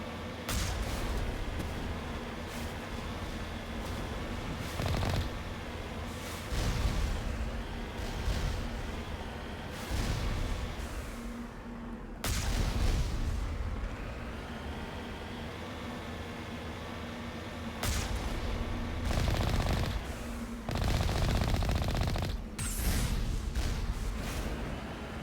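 Repeated bursts of turret fire from the video game Mass Effect, set on the Traverse, loud and broadband, coming in clustered volleys over a steady droning game background, with no talk.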